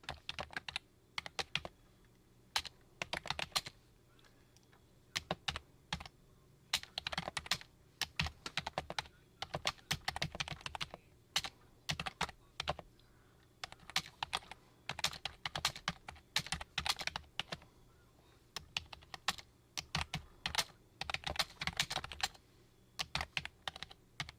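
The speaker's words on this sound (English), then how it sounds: "I'm going to type it in." Steady typing on a computer keyboard, close and fairly quiet, with irregular runs of rapid key clicks broken by short pauses, no talking.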